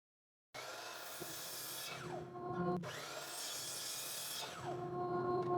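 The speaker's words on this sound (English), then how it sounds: "Cut that on the miter saw." A miter saw cuts wood boards to length for a rifle rack build: two close saw runs, each spinning up, slicing through with a whining drone and winding down, with no talk.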